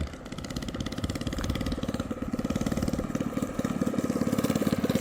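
A small engine on a homemade go kart converted for drifting keeps running steadily, a fast rhythmic putter with a slight wavering rise in pitch, loud and close throughout with no voices.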